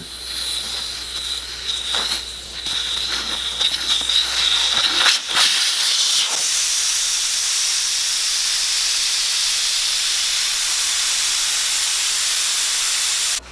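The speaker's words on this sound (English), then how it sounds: "take the valve stem out. Be really careful because there is a lot of pressure. And pull that valve stem out and let all the air out" Compressed air rushing out of a truck tire's open valve after the stem is removed, a steady loud hiss that swells early and then holds constant to the end, with no talking.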